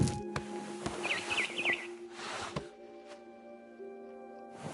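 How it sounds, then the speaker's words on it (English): In a video game, a barn swallow gives a quick cluster of three or four chirps outside a window, moderately near, over steady tonal game ambience and scattered clicks. "Then I heard chirping outside my window. It was a barn swallow going back to her nest."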